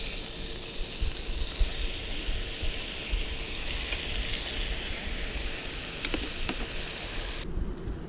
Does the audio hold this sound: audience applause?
no